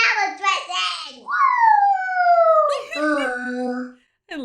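A cartoon dog howls in a Bluey episode, a long sliding animated howl between bursts of childlike cartoon voices talking and exclaiming.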